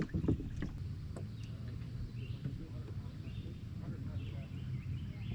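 A 1985 Nutshell Pram, a small sailing boat, moves through water with soft lapping and gurgling under steady wind noise, close and low.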